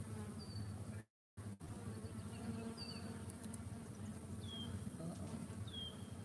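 Honey bees buzzing around an open hive in an apiary, a dense continuous hum with a brief dropout and occasional faint chirps from elsewhere.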